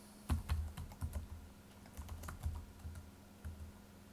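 Someone types spreadsheet data on a computer keyboard, producing soft, irregular key clicks and taps close by, with brief pauses between bursts.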